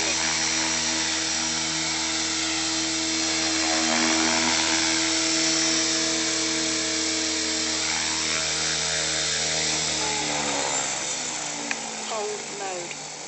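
A small helicopter coming in to land, its rotor and turbine whine steady and loud close by, then winding down and shifting in pitch as it settles, with talk mixed in.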